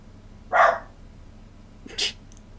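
A dog lets out two short barks in a quiet room: a louder one first, then a fainter one about a second and a half later, with no talking.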